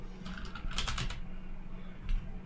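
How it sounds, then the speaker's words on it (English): Rapid typing on a computer keyboard, a brief burst of close clicks over a steady background hum, then quieter with a single later tap. "once you start typing start, you will see this start event"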